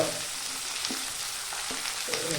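Sliced onion layers sizzle steadily in a hot pan with oil, with a few soft stirring scrapes breaking through the continuous frying hiss, close and moderately loud with no voices.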